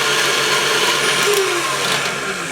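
An electric mixer whirs loudly and steadily as it beats egg whites for an angel food cake, the motor's whine holding constant with slight shifts in pitch as the beaters move through the foaming whites.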